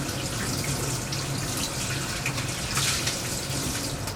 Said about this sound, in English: Let me rinse this off, though.